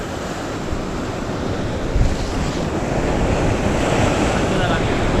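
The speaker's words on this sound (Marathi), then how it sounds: "लाटा असतात ना मित्रांनो लय" Rough sea waves on the Konkan coast crash and roar continuously with heavy wind, a steady broadband surge that swells slightly louder toward the end, close and loud with no voices.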